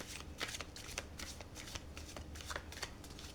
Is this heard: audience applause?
no